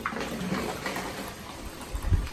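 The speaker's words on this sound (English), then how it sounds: "are you filling up the water?" Water runs and splashes into empty plastic bottles at a home in Ajijic, Mexico, a soft continuous trickle with a slightly louder gurgle near the end, close by and with no voices.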